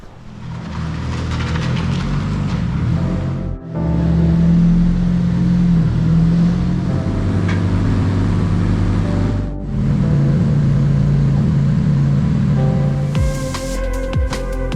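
Nissan 240SX S13 convertible pulled into a garage, its engine idling and revving steadily with a loud, droning hum, briefly cut twice, ending with rattling, clicking mechanical noises.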